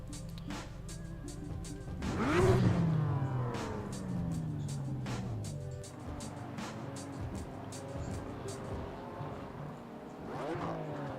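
Race car engine in a sim racing game, revving and changing pitch as the gears shift up and down, loud and close, with a strong rev surge early on and shorter climbs and drops afterward.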